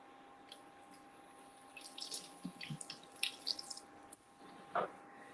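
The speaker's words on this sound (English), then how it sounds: "Let's rinse these off." Food rinsed under a running kitchen tap: faint, uneven splashing and trickling in a sink that comes in bursts, with a few louder drips and splashes toward the end.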